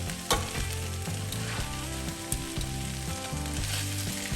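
Beef stir fry with onions and mushrooms, thickened with corn flour, sizzles gently in a pan, a close steady frying hiss with a few sharp clinks of stirring and a recurring tonal hum underneath.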